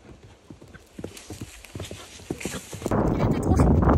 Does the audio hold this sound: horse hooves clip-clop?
yes